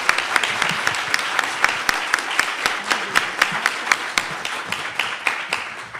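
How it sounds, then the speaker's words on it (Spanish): Applause rises from an audience at a formal institutional event, with crisp individual claps standing out sharply in an even rhythm before tapering off near the end. "yo sí quiero pedir un aplauso para Silvia"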